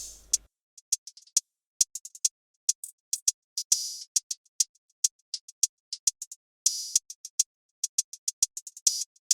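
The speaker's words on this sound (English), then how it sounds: "for the drums, I started with this hi-hat loop." A hi-hat loop from a Cymatics sample pack plays on its own for a dancehall beat, with crisp, bright ticks and short open hits in a quick, slightly syncopated pattern at moderate volume.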